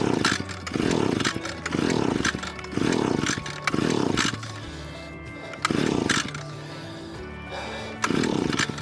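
The motor of a Royal dry washer used for gold prospecting runs in loud, rhythmic pulses, a rough buzzing roar that surges and dips about once a second, with a brief quieter lull partway through.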